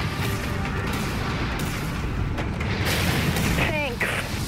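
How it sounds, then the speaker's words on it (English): Broadside cannons fire from a warship in the naval combat game Dreadnought, giving dense, rumbling booms layered over continuous battle noise and game voice lines. "Broadside batteries fire."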